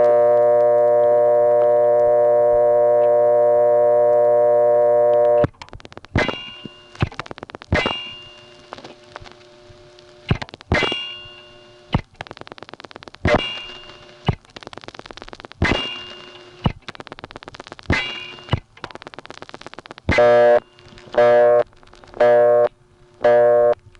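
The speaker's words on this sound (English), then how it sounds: "Now here's an intra-office busy signal by dialing my own number" On a 1970s step-by-step telephone exchange in Gap, Pennsylvania, a steady, buzzy tone sounds first, then a clipped intra-office busy signal follows as a long run of evenly spaced, loud tonal bursts with sharp clicks.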